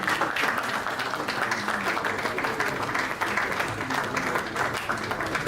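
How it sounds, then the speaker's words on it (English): An audience at a stakeholder policy dialogue on a national blockchain policy gives sustained, even applause to the DG, with a steady wash of many hands clapping and faint crowd murmur underneath. "Please give a round of applause to the DG."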